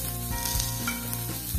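Vegetables frying in a pan, a steady close sizzle with light stirring, brief and continuous with no voices.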